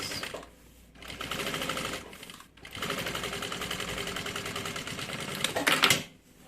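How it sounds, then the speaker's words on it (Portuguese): A sewing machine stitches fabric for a changing-pad bag, with a brief backstitch at the start: fast close mechanical whirring in several runs separated by short pauses, ending with a brief clack. "Agora é só fazer uma costura, retrocesso no início, segurando cada lado."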